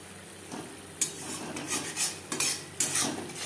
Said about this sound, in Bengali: এর মাঝে আমি এক দুবার নাড়াচাড়া করে দিয়েছি